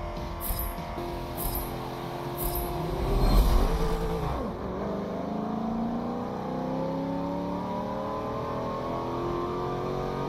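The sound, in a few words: Subaru WRX car being test driven in Forza Motorsport 7 video game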